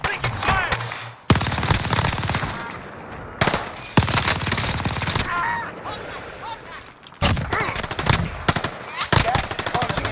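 Rapid automatic gunfire in Call of Duty: Modern Warfare, loud close bursts broken by short gaps, with chatter mixed in between the volleys.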